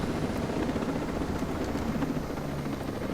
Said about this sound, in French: On va aller prendre l'hélicoptère quand même, faire un petit tour à l'hélicoptère.